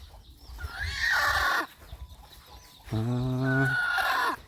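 A large rooster and chickens on a rural Thai property give two loud, close, drawn-out crowing calls with clucking, separated by a short pause, with no talk.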